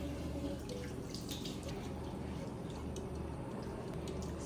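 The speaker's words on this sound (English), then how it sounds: "So I'm gonna wash my face." Water from a tap runs steadily into a sink while someone washes their face, a constant low rush with faint splashes, fairly quiet and close.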